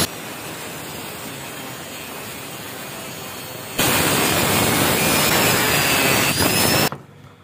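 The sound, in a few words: cutting the end off a steel motorcycle engine valve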